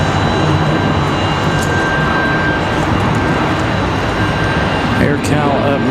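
A Southwest jet airliner touches down at Raleigh-Durham airport as a loud, continuous engine roar on a windy day, with a voice talking over it.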